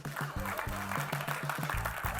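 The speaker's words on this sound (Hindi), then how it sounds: "मेरा ब्रीदिंग नॉर्मल हो गया ताली सुन के" Audience applause at a film trailer launch event clatters steadily throughout, under a louder tonal voice or music.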